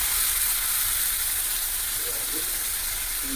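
Tomato and ginger paste hitting hot oil during tempering, a loud, steady, close hiss of sizzling throughout.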